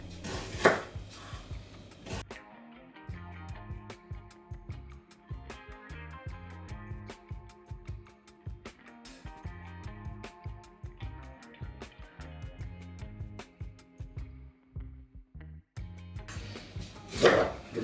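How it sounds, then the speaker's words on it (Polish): Onion sliced into half-moons on a cutting board, a long run of steady, rhythmic knife chops close by, bracketed by brief louder handling noises at the start and end. "najpierw sobie pokroimy cebulę, oczywiście wcześniej pobraną, w półplastry"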